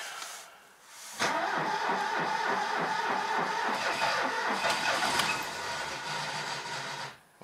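An old car in the snow with the choke pulled out and in neutral cranks with a rapid rhythmic starter churn for several seconds, then catches into a rough idle before cutting off, loud and close.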